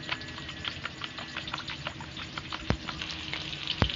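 Ground spices (coriander, cumin and chilli powder) frying with water in a pan for a chicken curry, a steady crackling sizzle with scattered pops and clicks.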